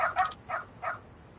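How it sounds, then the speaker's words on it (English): A dog in the Lost Judgment video game giving three short, sharp yapping barks in quick succession, fairly close, then quiet. "Cute dog, though."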